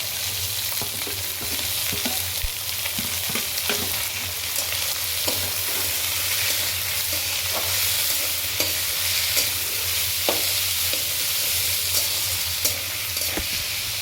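Beans, capsicum, peas, slit green chilies and carrot frying in a pan, a steady sizzle broken by repeated scraping clicks of stirring, close and without voices.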